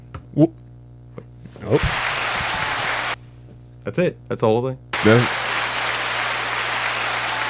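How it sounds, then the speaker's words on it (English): Played-back recording of a small audience of about thirty people clapping, a broad noisy burst lasting a few seconds, with people talking and laughing in the room before and after it. "Let me hear how that clap sounded just by itself."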